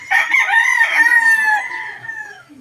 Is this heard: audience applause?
no